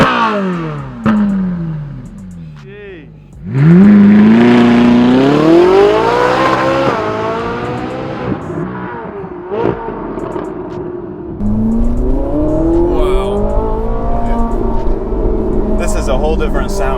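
A Ferrari 458 Italia engine revs hard and accelerates, rising in pitch through several gear pulls with brief dips between shifts, loud and close, inside the car.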